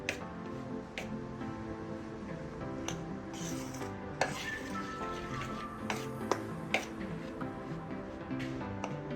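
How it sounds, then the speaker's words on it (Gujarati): A spoon scrapes and rubs through a warm mixture of flour and ghee for crispy farsi puri dough, with soft irregular clinks against the bowl, close and fairly quiet. "અત્યારે છે ને ગરમ છે એટલે ચમચીથી આપણે મિક્સ કરશું"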